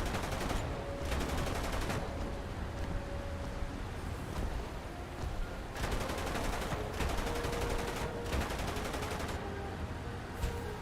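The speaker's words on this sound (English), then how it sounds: "I'm getting shot by a destroyer" A destroyer firing on the player's ship in a naval combat game set on the German coast, with rapid bursts of gunfire recurring in loud volleys over a steady roar of wind and water.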